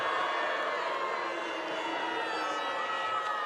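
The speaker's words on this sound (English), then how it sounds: "Now the crowd's starting to find their voice as well." Distant football crowd at the Chatham Cup final between Auckland City and Eastern Suburbs, a steady roar of voices building in the stands, continuous and moderately loud.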